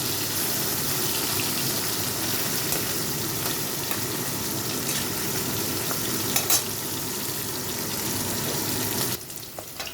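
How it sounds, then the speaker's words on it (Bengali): Small puti fish sizzle and crackle steadily in hot oil, a loud continuous frying hiss with occasional pops, dropping off slightly near the end. "এক পিস ভাজা হয়ে গেছে আর একটা পিস ভাজার জন্য মাছগুলোকে ঘুরিয়ে দিচ্ছি"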